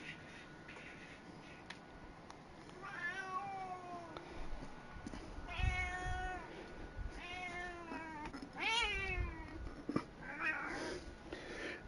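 A pet cat named Jasper, one of two in the home, meows repeatedly in drawn-out, wavering calls. The meows are spaced a few seconds apart over quiet rustling and shuffling nearby.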